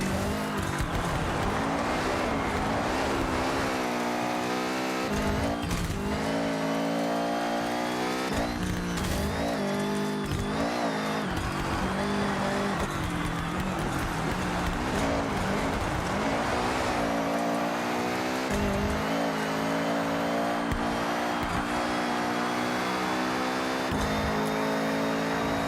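Race car in Forza Horizon 6 season events, its engine revving hard through gear changes with rising and falling pitch, loud and continuous, punctuated by repeated tire squeals and skids through corners.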